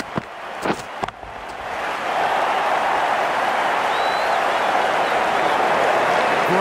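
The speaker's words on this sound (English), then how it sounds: "The crowd are loving this." The stadium crowd in the Cricket 19 video game, at an England versus Australia match, breaks into sustained applause after a few thumps and taps. The applause swells into a steady, even wash of clapping and cheering.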